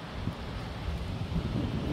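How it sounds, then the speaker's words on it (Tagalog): Strong, steady wind roars along a rocky coastal reserve in New South Wales, Australia, with dense low buffeting across the microphone and no break throughout. "Dahil malakas yung hangin."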